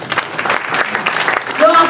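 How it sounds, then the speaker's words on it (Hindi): A short burst of brisk audience clapping fills a training event hall, loud and close, with voices mixed in. "एक जोरदार तालियां होना चाहिए"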